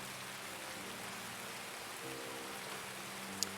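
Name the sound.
rain in the video game Escape from Tarkov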